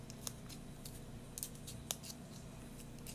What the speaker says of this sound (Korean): 그리고 이제 가위를 이용해서 잘라보도록 하겠습니다